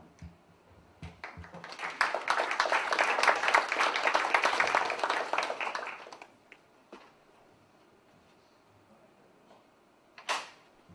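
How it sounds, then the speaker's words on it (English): Audience applause for a speaker at a Summit of the Americas preview, rising to a full round of clapping for several seconds before fading, followed by a few isolated knocks. "I've done nothing yet and yet have received applause"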